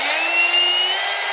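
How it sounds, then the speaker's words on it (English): A small wire brush spins on a Milwaukee drill while cleaning the badge of a Honda K24A2 engine. It gives a loud, steady, hissing whir that holds without a break. "So I have this little wire brush on my Milwaukee drill"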